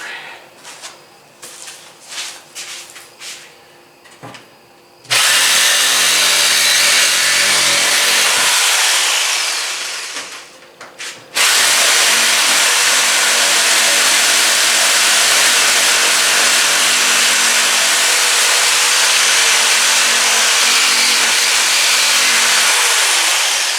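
A power saw with a metal blade cuts into the side skirts of a ZX2 car, two long loud harsh whining runs with a short break between them, following some scraping and knocking.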